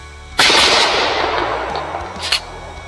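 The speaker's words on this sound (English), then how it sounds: "we're going to step it up a notch with something with a little bit more recoil, 12 gauge." A 12-gauge shotgun fires one loud, close blast that rings out in a long decaying echo, followed by a fainter metallic clack near the end.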